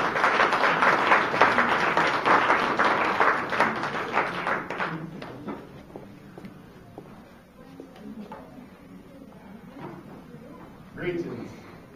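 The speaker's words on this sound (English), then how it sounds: "a big round of applause for Bill" An audience at a talk event gives a round of dense applause that gradually thins into scattered claps, with a brief swell near the end.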